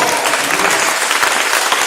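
A church congregation at a Sunday service breaks into loud, dense applause that fills the room evenly, with no voices above it.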